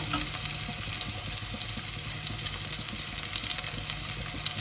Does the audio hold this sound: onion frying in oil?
yes